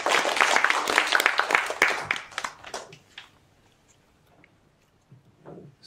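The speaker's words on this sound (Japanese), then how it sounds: "拍手をお願いいたします。" Applause from a symposium audience: a burst of steady clapping that fades out after a few seconds, leaving near quiet with a few soft noises.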